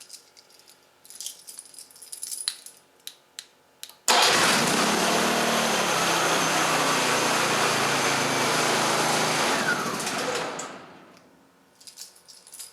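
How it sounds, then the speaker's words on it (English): A machine engine turns over, then runs with a loud, steady, close roar for about six seconds before winding down and stopping when a red stop button is held; light clicks and handling sounds come before and after. "press and hold this red stop button until the engine stops."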